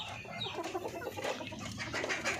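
Darag native hens clucking, a busy murmur of soft overlapping clucks and chatter from several birds nearby, moderately quiet and continuous.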